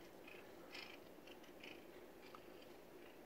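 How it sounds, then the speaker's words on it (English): A cat purrs softly up close, a low, steady rumbling drone that stays quiet and even throughout. "Listen to that purring. Rubbing and purring."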